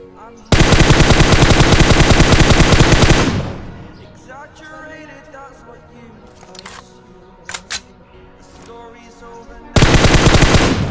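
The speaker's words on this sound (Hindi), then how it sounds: "और फिर कुछ ही देर बाद यहाँ से भी फायर आता है।" Rapid automatic gunfire in PUBG Mobile, with loud sustained bursts near the start and again at the end, separated by a quieter stretch of game sounds and a few brief sharp pops.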